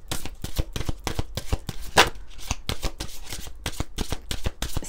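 Oracle cards are shuffled by hand in a brisk, even rhythm of close, crisp riffles and slaps, with one louder snap partway through and no talking.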